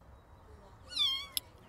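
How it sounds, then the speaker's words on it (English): A kitten crying for its mother gives one short, high, thin meow, faint and close, followed by a tiny sharp click. "Mama cat returns to her kitten's call."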